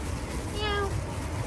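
A person imitates a cat with a single drawn-out, wavering meow sound during a playful meow game, set against a noisy room with background chatter.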